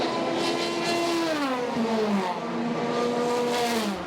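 Endurance race cars at Silverstone during the 2018 6 Hours, an LMP2 prototype and a Ferrari. A loud engine roars past close by, its pitch sliding downward as it passes, with no other sound in between.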